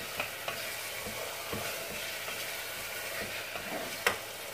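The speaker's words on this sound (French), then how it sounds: "Et je fais bien revenir donc ma viande avec l'oignon jusqu'à bien la faire dorer." Lamb and onion browning in a pot, a steady soft sizzle with a few quiet scrapes and stirs, moderately close and fairly faint, no voices.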